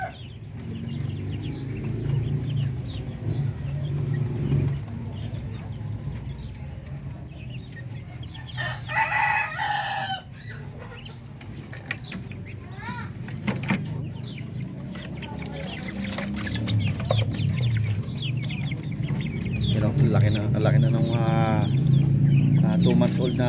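Native Filipino chickens about three months old cluck steadily at close range in a backyard pen, with a rooster crowing briefly in the middle and someone talking over parts of it.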